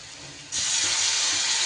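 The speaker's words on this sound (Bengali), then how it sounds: "মিক্সির বাটি ধোয়া জলটা আমি দিয়ে দিলাম" Water from rinsing a mixer jar is poured into frying masala in a pan. After a quiet half-second lead-in, a loud rushing hiss and sizzle erupts and holds steadily to the end, with no talk.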